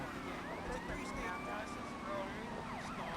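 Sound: police car siren in video game GTA Vice City Definitive

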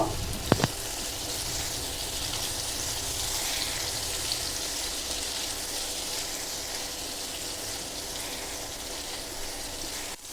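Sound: potato, eggplant, banana stem and green chilli frying in pan

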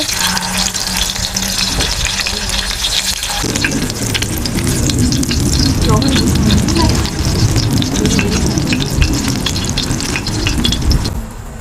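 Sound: pollock pancakes frying in pan

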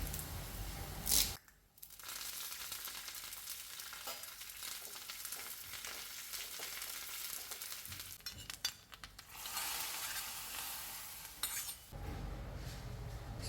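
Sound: onion and curry leaves sizzling in hot oil

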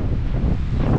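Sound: wind blowing

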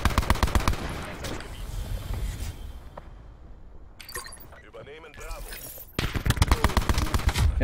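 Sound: Titan gun firing in video game Call of Duty Black Ops 4

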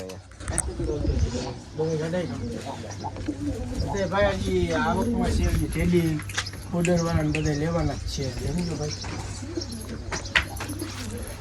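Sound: pigeons cooing in a loft

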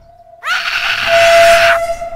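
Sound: screaming in the Hello Neighbor mobile video game

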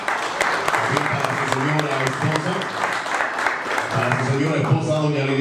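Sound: audience applause

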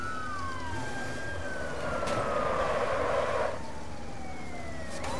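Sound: siren in a video game

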